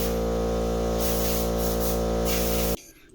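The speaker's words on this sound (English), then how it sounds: "So this is my view when I sandblast." An inexpensive sandblaster blasts in a loud, continuous hiss with a strong steady compressor hum underneath, cutting off abruptly near the end and leaving quiet room tone.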